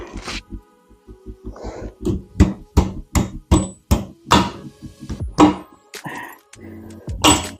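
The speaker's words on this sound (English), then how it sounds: "right now, I'll push that pivot shaft through" A pivot shaft knocked through the frame of a 2005 Softail motorcycle gives a series of sharp, close metallic taps and thuds in an irregular rhythm, with short pauses between strikes.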